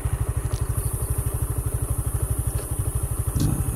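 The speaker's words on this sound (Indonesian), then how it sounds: "Ini motor Supra" A Supra motorcycle engine idles close by with a steady, even chugging pulse of low thumps, clattering faintly throughout with no one speaking.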